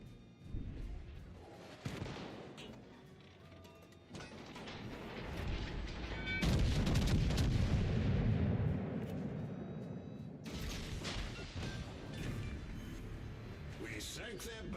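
Naval artillery in World of Warships on Xbox Series X, several booming gun salvos and rumbling blasts spread across the stretch, with game voices and talk over the top.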